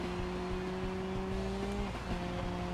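An Ibishu Covet's front-wheel-drive engine in BeamNG.drive holds a high, steady rev, then dips and climbs again, a continuous moderately loud engine tone with no voices.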